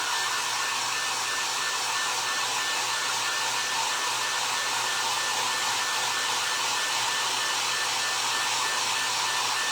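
A hair dryer blows steadily on a paper mache rabbit, a loud, even, unbroken hiss of rushing air with a faint whine that lasts throughout.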